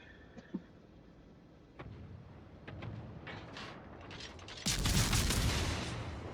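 Battleship guns fire on an enemy ship in World of Warships: a few sharp early reports, then swelling booming salvos and rumble that grow louder toward the end, with no voices.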